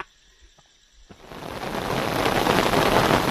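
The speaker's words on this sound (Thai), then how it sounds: "โอ้ยฝนลงเม็ดหนักเลยครับฝนตกลงเม็ดหนักเลย" Heavy rain over a valley pond at night begins abruptly after a quiet start with faint insects, quickly building into a dense, loud, steady roar of pouring rain.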